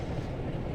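A passing train in the Train Sim World 2 game on the Northern Trans-Pennine route rumbles by as a steady, dense low roar, loud and continuous without talk.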